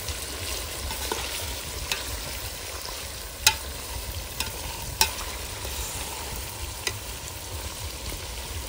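Chicken curry is stirred in a hot pot over a wood fire: a steady, soft sizzle runs throughout, broken by several sharp scrapes and clinks of the spoon against the pot at irregular intervals, with no talking.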